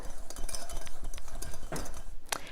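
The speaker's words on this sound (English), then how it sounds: "we're going to whisk these ingredients together" Baking powder, baking soda and salt being whisked together in a bowl for apple pie scones, giving quick, close, irregular metallic clinks and scrapes of the whisk against the bowl with no talking.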